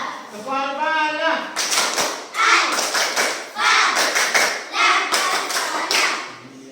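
Classroom of schoolchildren doing a rhythmic clapping game, patting their heads in time; a series of bright slapping pats in bursts, with a voice chanting before the pats start.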